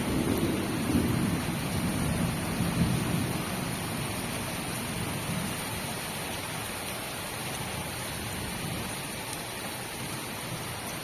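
Heavy monsoon rain pours steadily for the whole stretch, with a low rumble of thunder early on fading into a dense, even hiss of rainfall on surfaces.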